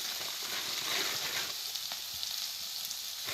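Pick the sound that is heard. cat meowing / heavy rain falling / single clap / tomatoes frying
tomatoes frying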